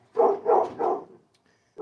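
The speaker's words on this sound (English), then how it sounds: "And the dog's gonna bark at some people that are walking by." A dog barks three times in quick succession at people walking past outside, fairly close and loud, followed by a pause and the start of another bark.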